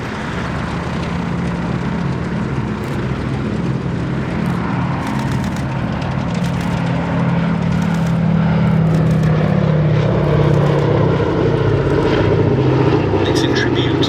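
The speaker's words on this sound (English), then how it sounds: "tribute is paid by the sole airworthy B-17 Flying Fortress in Europe" The sole airworthy B-17 Flying Fortress in Europe passing over a Battle of Britain airshow at Duxford, a deep, droning multi-engine piston rumble that swells gradually, heard under a commentator's continuous talk.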